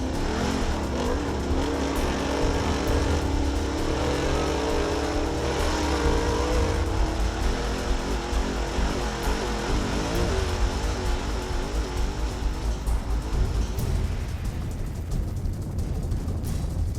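Trophy truck racing in the Finke Desert Race near Alice Springs, its engine misfiring on seven cylinders with third gear gone, roars loudly and continuously with shifting revs, mixed with rough off-road rumble throughout.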